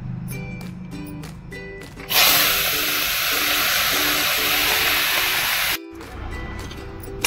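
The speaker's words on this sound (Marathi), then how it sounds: "ही डाळ आपण कढईमध्ये परतून घेऊया." Cooked chana dal being sautéed in a kadhai for puran poli gives a loud, steady sizzling hiss that lasts a few seconds, with rhythmic background music before and after it.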